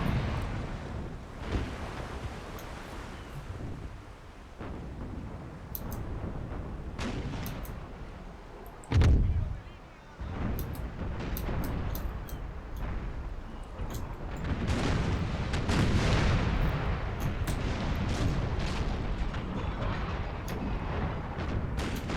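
Cannon artillery firing in the video game Empire: Total War, heard as rumbling booms, one heavy blast standing out, over a continuous dense battle roar with no talk.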